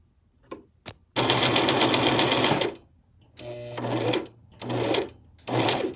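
A Brother LX3817 sewing machine stitches fabric in a long steady run of rapid mechanical whirring, then three shorter bursts after brief pauses, preceded by a couple of quick clicks, close and loud with no talking.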